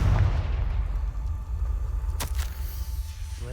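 A Confringo fire spell blasting in a Harry Potter video game gives one sharp crack partway through, set over a steady low rumble of game ambience, with no talking.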